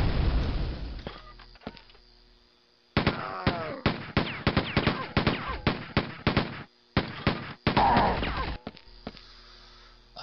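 Rapid bursts of gunfire in the video game Quake 2, sharp repeated shots in quick clusters with short pauses between volleys, loud and close, with a lingering rumble at the start and no talk over it.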